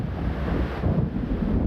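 Stormy wind rushing over a lake with waves churning in the game Alan Wake, a dense low roar that stays steady and close throughout with no clear breaks.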